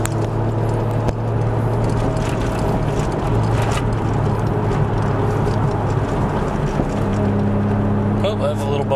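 A Toyota Chaser JZX100 with a 2.5 liter turbo 1JZ engine idles and rolls steadily, a low droning engine tone with road and cabin rumble throughout.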